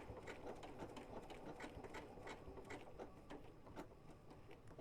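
A Janome sewing machine runs steadily through a quilted seam, its needle action a fast, even mechanical whir with rhythmic ticking, close and alone.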